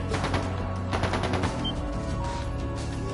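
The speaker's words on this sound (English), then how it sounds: "That didn't sound good. That sounded like gunfire." A loud, dense burst of rapid automatic gunfire rattles continuously in a scene from the video game Cold Steel II, with overlapping shots throughout.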